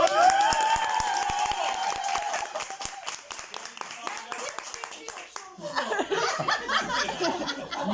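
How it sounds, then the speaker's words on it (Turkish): Hands clap steadily in a room during a pottery lesson, a run of sharp distinct claps that swells into louder mixed applause with laughter, while people talk over it. "Alkışımızı açıyoruz, alkışlıyoruz."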